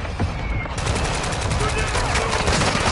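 Gunfire in a Modern Warfare 2 multiplayer match: dense, continuous automatic fire with overlapping bursts, loud and unbroken for the whole stretch.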